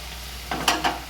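Chicken cooked in a pan with the water boiled off, heard right after the lid comes off, gives a faint sizzle with two quick stirring scrapes over a low steady hum.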